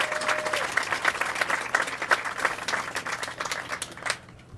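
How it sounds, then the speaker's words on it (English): A crowd at a homeless shelter groundbreaking ceremony claps, brisk uneven applause from a modest gathering that swells and then tapers off at the end. "So I would like everyone to just give an applause."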